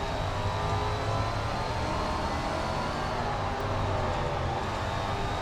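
A Super Late Model race car engine in the racing game SRX: The Game drones steadily and loudly at moderate revs, a continuous rough roar without clear shifts, and no one speaks.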